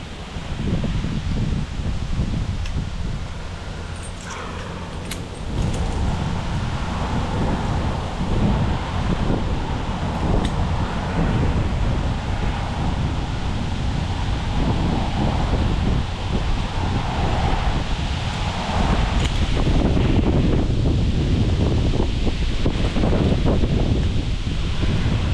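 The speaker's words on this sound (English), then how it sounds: "Windy day." Wind and rain blow through a poplar limb, a continuous rushing roar of gusts and rustling leaves with heavy wind buffeting on the microphone, steady and loud throughout without speech.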